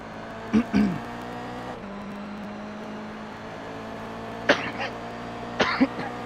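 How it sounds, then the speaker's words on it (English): Short coughs from a man on a sim-racing stream during a Laguna Seca esports sportscar race, first a pair near the start and then two more bursts later, over a steady engine hum. "Sorry, I got a little cough."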